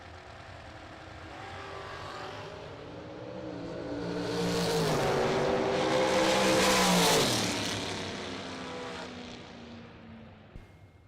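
Race cars roar past on a track, the engine noise building, peaking close by and then fading away with a falling pitch, with no voices.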